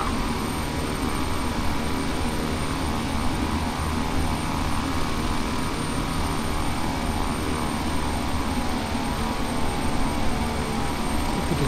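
A King Air aircraft engine in Microsoft Flight Simulator X, during an Edwards Air Force Base tour mission, produces a loud, unbroken propeller-engine drone that holds steady for the whole stretch, with no voices.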